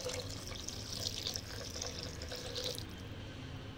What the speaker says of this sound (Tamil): முதல்ல தண்ணி ஊற்றிக்குவோம்.